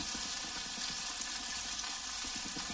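Fish fries steadily in a hot pan for a fish curry with onion, a dense continuous sizzle with soft scraping stirs and light clatter as the pieces are turned.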